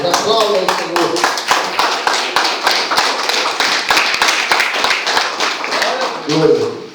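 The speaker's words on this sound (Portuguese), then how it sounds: "Aplauda ao Senhor." A church congregation claps together in a steady, dense patter of hands that carries on throughout, with a voice speaking over the applause near the end.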